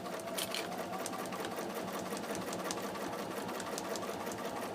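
A sewing machine stitches steadily nearby, its rapid mechanical chatter running evenly without a pause.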